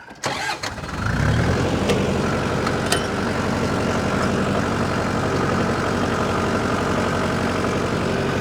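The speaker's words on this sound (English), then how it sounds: "I'm going to drive the tractor up in low and 4-wheel drive." A tractor engine starts and then runs steadily and loudly in low gear with 4-wheel drive engaged as it drives up onto a trailer, a constant close drone with a few clanks, no talk.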